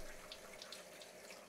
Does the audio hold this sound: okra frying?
no